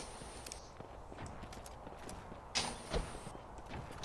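Horse hooves clip-clop faintly in the online shooter game Shotgun Farmers, a few soft steps amid quiet game ambience, with a couple of sharper impacts near the end.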